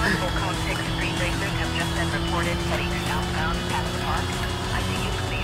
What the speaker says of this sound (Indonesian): Soalnya suaranya sama-sama Rotary tau.